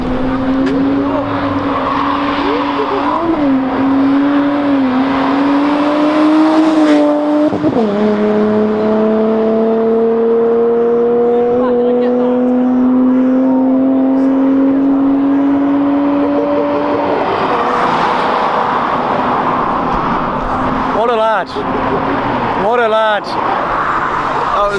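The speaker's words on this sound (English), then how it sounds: "Another burnout on an M4." Loud, close burnouts from a BMW M4 and a Honda Civic Type R at a car meet roundabout, with a steady high tire squeal and droning engine held for about ten seconds, then more revving and squealing bursts.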